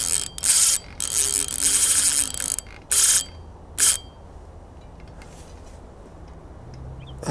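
A fishing reel ratchet buzzes in several loud, clicking bursts while a fish is reeled in, then falls quiet into faint background noise.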